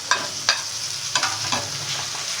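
Chopped onion and a small finely cut tomato with red and green chilies fry in a pan for a street-style mini burger, giving a steady hiss with a few scraping stirs of a spoon.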